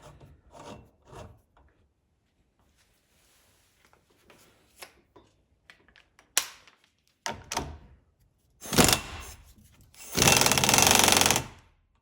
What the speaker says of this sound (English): In the middle here registers inside the retaining nut. I can just do it up with the